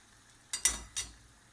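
Gluten-free vada frying in hot oil, with a few short sizzling bursts as pieces are stirred or moved in the pan, up close and moderately quiet, with no talking.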